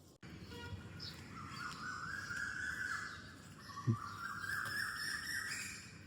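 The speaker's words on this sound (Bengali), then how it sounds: "ভোরের আলো পাখি ডাকছে" Birds calling in the distance at dawn, long faint whistling notes over a soft ambient hum, with one brief lower call midway.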